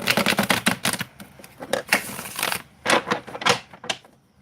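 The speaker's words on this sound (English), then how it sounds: "Give me just a minute to get through shuffling and stuff," Tarot cards are shuffled in quick, crisp clattering bursts, riffles and taps close by, in irregular clusters with short pauses between them.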